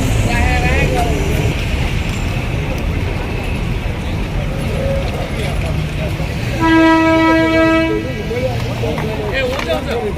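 A toy train rumbles at the Kurseong hill railway station under steady noise, and a sustained horn tone sounds near the middle of the clip.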